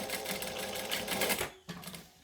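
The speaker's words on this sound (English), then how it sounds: "And yes, I talk to my sewing machine." A sewing machine stitches in a fast, steady mechanical chatter close by, stopping briefly and then starting again for a short burst, with no talking.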